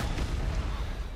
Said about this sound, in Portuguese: Segura essa granada aí.